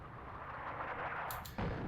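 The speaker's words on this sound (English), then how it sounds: "So there we go, the artillery is coming in." Artillery fire in the World War II North Africa strategy game Attack at Dawn: a dull, rumbling bombardment under steady background noise, with a brief sharp crack and a heavier thud near the end.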